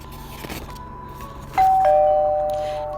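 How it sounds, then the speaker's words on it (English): A doorbell rings at a house party door, a clear two-tone ding-dong chime that starts sharply and rings out, fading slowly over a quiet background. "He rang the bell and then he froze."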